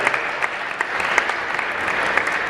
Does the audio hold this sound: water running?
no